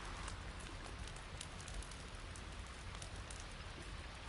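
Steady rain pattering on a shelter roof in the survival game The Forest, a dense, even hiss of drops continuing throughout with no voices.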